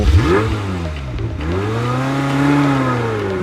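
Ferrari sports car engine revving loudly up and down, a close, continuous high-pitched roar with rising and falling pitch sweeps and no talk.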